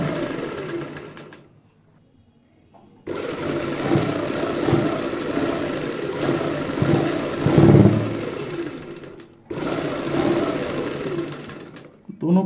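A sewing machine runs in long steady bursts while stitching folded fabric neck strips, stopping briefly twice between runs, close and fairly loud.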